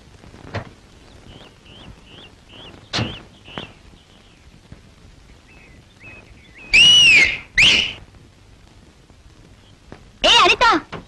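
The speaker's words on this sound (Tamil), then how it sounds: "பெட்ரோல் பங்க் விசில் அடிக்குது." Loud, piercing wolf whistles blown at women from a petrol station in a Tamil comedy scene: several sweeping rising and falling calls come in quick pairs, with quieter clatter and faint sounds between them.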